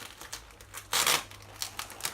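Short crinkling and tearing of duct tape being wrapped around a plastic bag, with one louder rip near the middle, close and alone.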